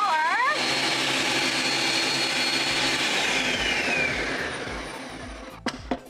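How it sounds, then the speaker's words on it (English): A blender crushes ice cubes for a piña colada, a loud continuous grinding roar that holds steady for several seconds and then eases off, with a few clunks at the end. "So I'm gonna take it to the blender and blend them together."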